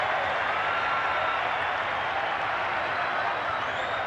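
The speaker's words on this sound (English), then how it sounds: "So much noise from an enthralled crowd" A boxing crowd at a Barrera–Morales fight roars and applauds after the round bell, a dense, steady wash of cheering and clapping filling the arena without letup.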